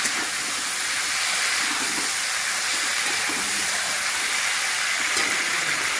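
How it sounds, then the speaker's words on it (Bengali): Flat beans and potatoes fry in a pan, giving a continuous loud, even hiss of hot oil with no breaks. "সিম আলুটাকে ভালো করে ভেজে নেওয়া হয়ে গেছে।"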